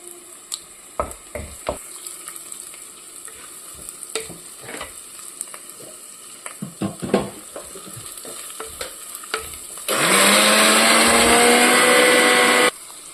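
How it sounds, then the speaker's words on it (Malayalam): Crushed ginger and garlic sautéing for a prawn curry, with scattered clicks and scrapes of stirring over a soft sizzle, then a loud, steady burst of frying hiss for a few seconds near the end. "ഇഞ്ചി വെള്ളുള്ളി ചതച്ചത് ചേർത്തു. ഇനി ഇത് നന്നായി ഒന്ന് പച്ചമണം മാറുന്നവരെ വഴറ്റണം"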